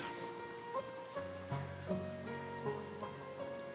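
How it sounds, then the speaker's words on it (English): Torrential rain in Final Fantasy XIV, a steady wash of rainfall across city streets that are flooding, heard under soft tonal game music with gentle swells and no speech. "Even though it's raining torrentially, and the streets are flooding"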